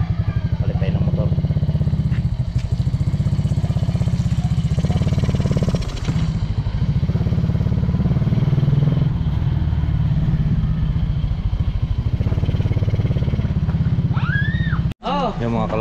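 A motorcycle engine runs steadily and close by for the whole stretch, a low rumbling drone with some clatter, while people talk over it.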